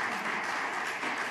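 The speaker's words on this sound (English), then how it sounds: "I want to give them a big round of applause" A brief burst of steady audience applause at an outdoor ribbon-cutting ceremony for a new apartment building, a dense even wash of clapping with no voices.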